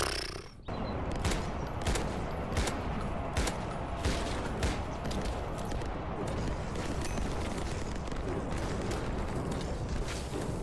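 Sustained, dense automatic fire from an MG42 machine gun in a Minecraft zombie survival game, a loud continuous roaring burst that starts abruptly after a brief lead-in and keeps going without a break.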